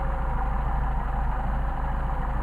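A Mercedes 190SL engine idles very low on Solex carburetors, a steady, even, pulsing rumble with a slightly lumpy beat, close and loud, with no talk over it.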